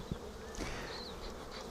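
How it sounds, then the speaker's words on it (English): Honey bees buzzing at the entrance of a Flow hive, a steady droning swarm with individual bees whizzing past close by, no talking. "the entrance, of course, where the bees are is the hardest point because there's bees coming and going"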